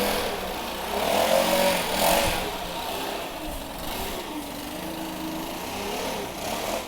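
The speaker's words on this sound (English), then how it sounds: "something's coming back here, a blower." A leaf blower runs nearby in a small backyard, its engine a steady, moderately loud whine that swells slightly and then holds, with no talking.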